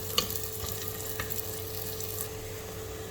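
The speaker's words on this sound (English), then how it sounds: "We will cook the onion until it gets golden brown." Onion fries in a clay pot for dhaba-style lentil soup, giving a soft, steady sizzle and crackle with a faint background hum. It stays fairly quiet throughout and no one speaks.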